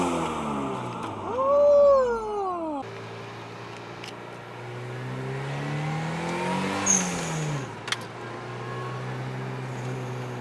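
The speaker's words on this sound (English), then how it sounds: "Sounds like I gained 50 horsepower right there." A car engine revs and winds up and down in pitch, loud and close, with a brief rise and fall midway and a sharp click near the end.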